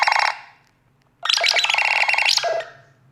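Nothing Phone 1 ringtone plays loud and close: a short bright electronic burst, then a pause, then a longer glitchy, tonal phrase of stacked synthetic chimes that fades out.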